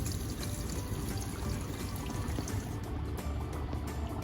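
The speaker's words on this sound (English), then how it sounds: "We're gonna add some water." Water is poured onto dry ice, producing a steady hiss and fizzing bubbling that holds at an even level throughout, close by, with no talking.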